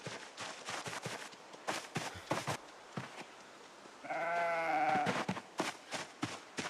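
A single sheep bleat in the video game Project Zomboid rises midway through, wavering and clear, amid soft repeated taps and shuffles like footsteps.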